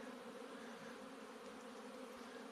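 Many honeybees hum steadily around hives in an apiary on a mild winter day, a continuous dense buzz of massed insects in flight, close and even throughout with no voices.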